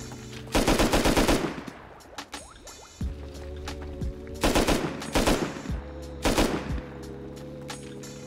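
Automatic and single gunfire in the Rust video game during a base raid, loud rapid bursts repeating in several volleys with steady mechanical background hum between them.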